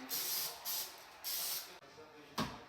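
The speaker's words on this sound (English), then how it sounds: "I coat each pan with a little bit of spray." Several short bursts of cooking spray hiss close by onto a baking pan, three longer sprays and a brief final one, with small clicks between them.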